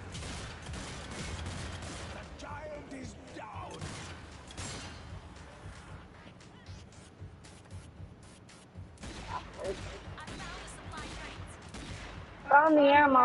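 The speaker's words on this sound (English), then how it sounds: "Oh, what is this? Shotgun? Ooh, shotgun." Gunfire in the zombie shooter Zombie Army 4, a scattered series of sharp shots and mechanical clacks of moderate loudness, with quieter stretches between bursts and a brief voice near the end.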